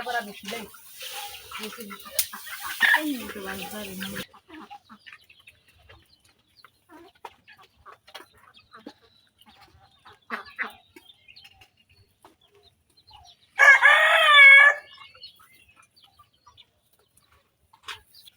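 Chickens cluck and a rooster crows loudly near the end. The fowl calls come and go among scattered household noises, with brief talk at the start.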